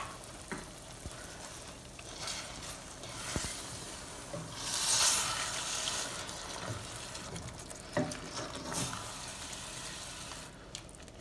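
Saved liquid from a can pours into a simmering vegetable and tomato shakshuka stew, giving a soft, continuous sizzle and bubbling with occasional stirring clinks, quiet and close.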